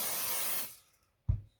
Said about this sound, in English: we spray a bit of activator